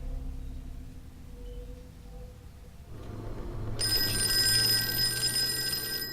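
A telephone rings in a video game, its bright, bell-like trilling tone starting partway through over a low ambient hum and continuing steadily.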